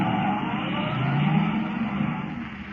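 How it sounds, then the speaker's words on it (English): A car engine in a radio drama is pushed to its top speed, a steady loud roar with a low rising drone that stays level for a few seconds without any talk. "Forcing the car to the limit of its speed, Kent races toward Linwood"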